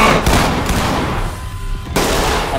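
Sustained, loud gunfire from a shooter video game's club raid, with dense overlapping shots continuing almost without pause and one brief lull before the firing swells again.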